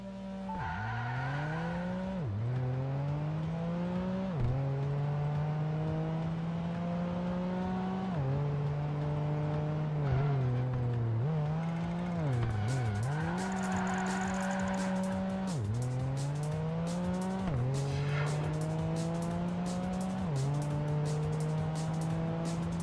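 Racing cars in the video game Project Gotham Racing 2 roar continuously with engines revving up and down through gear changes, while tires squeal repeatedly through corners, loud and steady without any voices.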